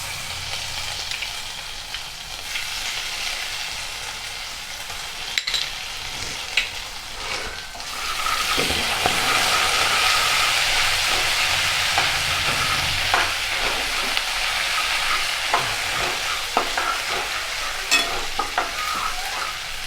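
Ground masala and ginger garlic paste frying in a pan for a potato curry, a continuous close sizzle that swells louder partway through, with scattered scraping and clinks of stirring and no talk.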